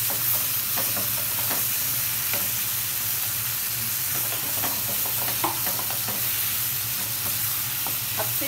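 Tomatoes frying in a pan for dhaba-style tadka dal, giving a steady, close sizzle with soft stirring scrapes and occasional pops, continuous throughout with no talking.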